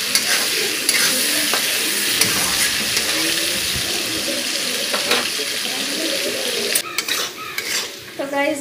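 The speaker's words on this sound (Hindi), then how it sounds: "प्याज और आलू अच्छी तरह से हम लोग भून लेंगे।" Chopped potatoes and onions frying in a pan, a continuous loud sizzle under repeated scraping and clinking of a spoon against the pan, with some speech in the background.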